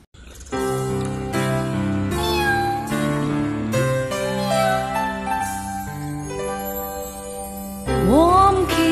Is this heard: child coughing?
no